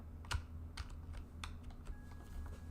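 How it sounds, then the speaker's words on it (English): Computer keyboard typing with a handful of sharp, irregular keystrokes close to the mic over a steady low hum, recorded during a gaming stream with no talking. "I feel like the keyboard is too loud."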